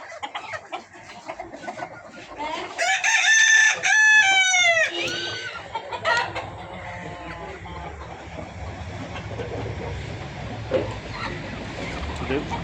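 Spotted parent-stock chickens cluck nearby while a rooster lets out a loud, close crow lasting a few seconds, followed by softer scattered clucking and faint farmyard background.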